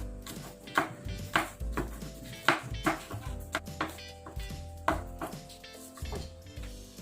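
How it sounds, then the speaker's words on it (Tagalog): A kitchen knife chops green onion leaves on a board while miso soup is being made, giving sharp, close, irregular taps over a steady tonal hum of background music. "Pagkatapos ay hiwain naman natin ang onion leaves."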